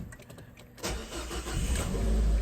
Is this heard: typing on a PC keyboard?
no